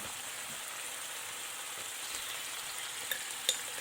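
Tomato masala fries in a pan with a steady, soft sizzle and faint occasional scrapes of stirring, no voices.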